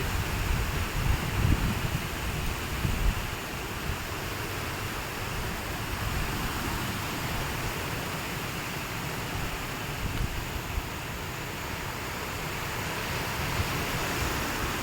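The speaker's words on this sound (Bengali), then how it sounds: "এখনো তো ঝড় শুরু হয়নি, শুধু দমকা বাতাস হচ্ছে" Gusty evening storm wind in the Sundarbans roars as a dense, steady broadband rush, slightly stronger at the start, with no voices.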